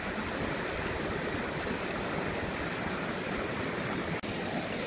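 Creek water rushes in a steady, dense outdoor flow, loud and continuous with no talking, a broad watery hiss filling the whole stretch.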